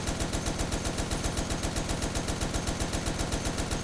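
Continuous rapid machine-gun fire from the Toy Soldiers War Chest video game, loud and unbroken, with a steady rhythmic pulse throughout.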